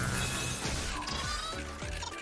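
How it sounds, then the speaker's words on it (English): Glass breaking in Astro's Playroom, a quick run of bright shattering crashes and tinkling shards over game background sound, faint and close. "Let's break the glass here."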